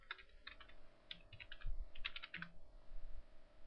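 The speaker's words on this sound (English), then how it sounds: "Type in my own name." Quick bursts of typing on a computer keyboard, light close clicks in short uneven runs with brief pauses, over a faint steady hum.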